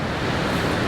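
Sea waves wash onto the rocky shore of a cove in a dense, steady roar of broadband surf, loud and close, with wind buffeting the microphone.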